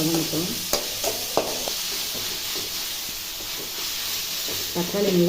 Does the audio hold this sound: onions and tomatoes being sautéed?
yes